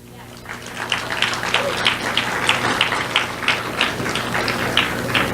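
Scattered applause from a conference audience in a large room, building to a steady patter of clapping that continues throughout at moderate distance, with faint background murmur.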